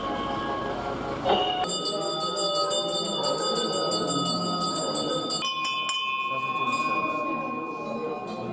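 Metal bells ring steadily at a Hindu shrine in Sikkim or Darjeeling, where Buddhist prayer flags also hang. The sustained, overlapping peals are close and fairly loud, and a faint murmur runs underneath.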